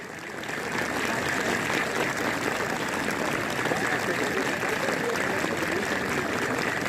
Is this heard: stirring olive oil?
no